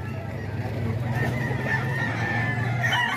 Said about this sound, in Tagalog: Mga dalang manok ni Boss Vic.